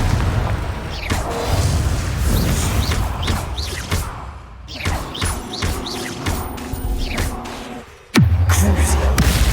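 In a Hogwarts Legacy dark arts arena fight, Confringo fire spell blasts go off in quick succession as loud, crackling bursts and throbbing booms, ending with one heavy impact and a low resonant hum.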